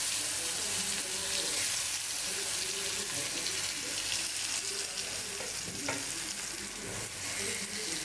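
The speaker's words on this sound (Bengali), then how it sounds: "এখানে বেগুন ভাজাটা হচ্ছে।" Eggplant slices frying in hot oil, a steady dense sizzle close by with a few soft stirring clicks, no talking over it.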